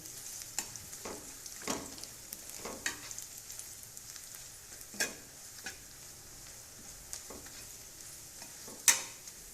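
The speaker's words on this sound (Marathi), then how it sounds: "तर कांदा फ्राय झालेला आहे आपला मिरची टाकून घेऊ" Onion and red chili frying in a pan for a village-style amaranth leaf curry: a continuous soft sizzle with several sharper pops and stirring scrapes scattered throughout, close but fairly quiet, with no voices.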